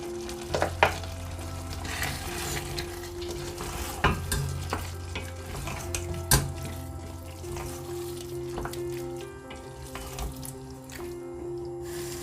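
Red potatoes go into a pan and fry with a soft sizzle while a spatula scrapes and stirs in repeated clattering strokes, with a low steady hum underneath.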